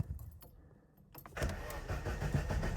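A Lada 2103 with its choke pulled is cranked up close, a short quiet lull followed by the engine catching and settling into a rough, loud idle.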